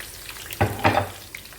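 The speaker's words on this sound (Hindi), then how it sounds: "2 जवे लहसुन के साथ मैंने इसको हल्का सा फ्राई करूँगी। फिर इसमें मैं ये प्याज डाल दूँगी।" Garlic and onion fry in ghee and butter with a soft, close sizzle and two brief louder bursts as the pan is stirred.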